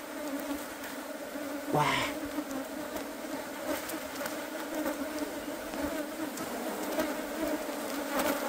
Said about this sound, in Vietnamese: Nhưng ong vỡ tổ.